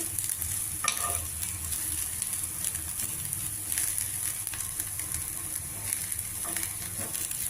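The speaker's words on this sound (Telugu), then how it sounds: "సిమ్లో పెట్టే వేయించుకోవాలి ఉల్లిపాయ ముక్కల కలర్ మారుతుంది కొద్దిగా లైట్ బ్రౌన్ కలర్లో వస్తుంది" Onion pieces frying on low heat in a pan, turning light brown, with a continuous close sizzle and a few stirring scrapes over the crackle.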